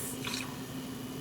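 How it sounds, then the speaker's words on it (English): Egg batter for keto pumpkin spice chaffles being frothed and mixed, a faint steady whir with soft wet squishing and dripping, quiet and close. "I'm going to go ahead and froth this up"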